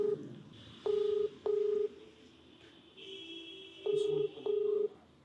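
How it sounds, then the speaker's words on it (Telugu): Telephone number dialed on a keypad, giving four evenly spaced DTMF tone beeps in two pairs over a faint steady background hum, with no talk. "ఒకసారి కాల్ చేద్దామండి"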